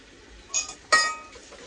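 Dishes and pots being washed in a home kitchen sink, with two sharp, close clinks of crockery against a quiet background; no running water stands out.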